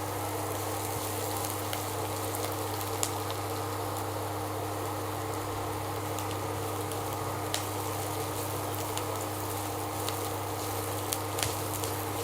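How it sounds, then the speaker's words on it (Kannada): An egg fries in a pan on an electric stove for a traditional Karnataka-style egg palya, giving a steady, even sizzle throughout with faint crackles and no voices. "ಒಂದು 3-4 ನಿಮಿಷ ಹುರ್ಕೋಬೇಕು"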